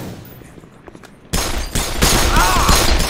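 Gunfire in the game Black Mesa, a Half-Life 1 remake: a sudden loud burst of shots opens up partway through and keeps going in dense, overlapping volleys after a quiet start, close and harsh.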